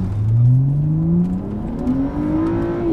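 A modified BMW E90 335i accelerates hard to 60, heard from inside the car: one loud, steadily rising engine note that climbs through the gears with a short dip at a shift, with no talking.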